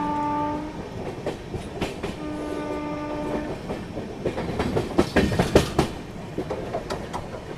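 The Malwa Express rolls into Maksi Junction railway station with rhythmic wheel clatter and rumbling, sounding two sustained horn blasts early on before the clanking carries on.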